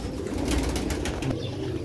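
Pure-breed Sialkoti silver chhapdar pigeons coo close by, with low, throaty, rolling calls over a steady background hum.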